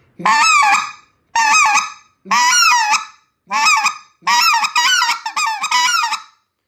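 A goose call blown to imitate goose honks, a lesson in two-note calling and clucks: six loud, close bursts of rapid honks and clucks with pauses between, the last runs quicker and choppier.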